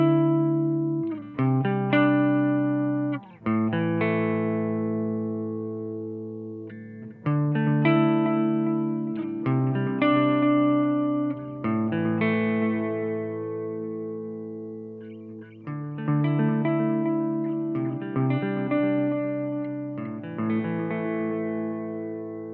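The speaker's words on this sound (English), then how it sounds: "Let's start by checking out the delay." Electric guitar played through a DemonFX reverb and delay pedal with the delay engaged and blend near halfway, picking out separate chords and notes whose repeats trail off behind each phrase; close and steady, no talking.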